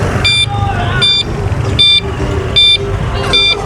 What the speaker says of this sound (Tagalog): Grabe ang traffic sa Hagonoy.